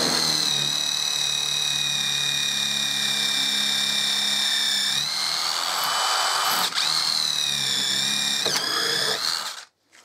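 A steady high-pitched whine from an impact driver boring a 6mm hex shank multi-material masonry bit into wood, running loud and continuous for about nine seconds with a couple of brief pitch dips before stopping abruptly.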